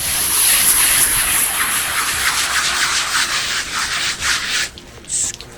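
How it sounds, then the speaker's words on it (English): A stiff brush scrubs hard and continuously against car carpet fibers, a loud steady rasping that only breaks up in the last second. "scrub the heck out of these fibers"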